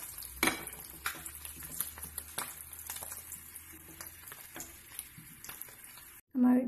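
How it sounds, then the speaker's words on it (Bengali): Eggs fry in oil in a pan before going into an egg curry, making a steady crackling sizzle dotted with small pops. A brief low tone cuts in right at the end. "একটু লাল লাল করে ভেজে নেওয়ার পরে আমি ডিমগুলোকে তুলে নিব।"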